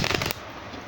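Tarot cards being shuffled at close range, a short riffling rush that stops abruptly after a fraction of a second.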